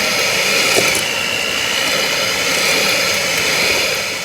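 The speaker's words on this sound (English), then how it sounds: "we're just going to mix it in with our hand mixer" A hand mixer creams butter and sugar for a white cake, giving a loud, steady motor whir that holds level throughout with no talk over it.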